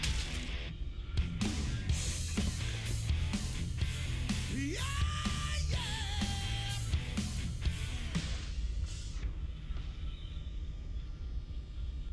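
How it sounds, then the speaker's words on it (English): A screaming vocal over loud rock music bursts from the online game Otherland, a dense, driving stretch of percussive hits and a wailing sustained yell in the middle, filling the whole clip at high volume. "why did it need a rock music yeah scream over it?"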